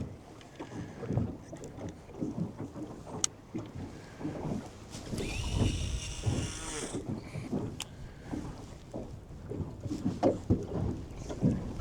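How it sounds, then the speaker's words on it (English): Strong wind gusts across a lake, buffeting the microphone in uneven rumbling bursts, with water lapping against a fishing boat in the background. "I cannot believe this wind's a booking like this today."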